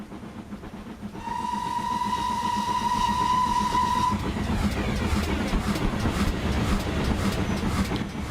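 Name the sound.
King class steam locomotive running in train simulator video game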